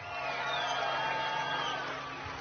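A bass fishing tournament weigh-in crowd on the St. Lawrence River cheers and whoops in a sustained, fairly distant roar that swells and then eases slightly.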